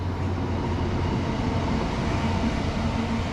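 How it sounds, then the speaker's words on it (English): A train rolls through Llanfairpwllgwyngyll in Wales with a steady, loud rumble and rattling wheels on the track, a continuous close roar with no voices. "A train passing through the longest named town in Britain."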